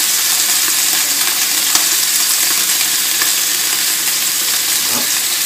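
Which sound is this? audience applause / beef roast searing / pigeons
beef roast searing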